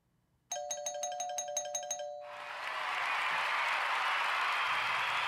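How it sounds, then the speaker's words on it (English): A bright chiming tone rings briefly, then a burst of applause sound effect swells in and holds steady and loud to the end. "I got to give her some applause before I read this one"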